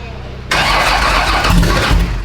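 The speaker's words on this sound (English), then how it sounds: "Matt, go ahead and crank it and see if it does anything" A 496 big block engine cranks and catches abruptly, settling into a loud, steady rumbling run at close range, with people talking over it.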